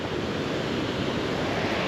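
A waterfall in the middle of a town centre gives a steady, loud broadband rush of falling water, continuous and close with no pauses.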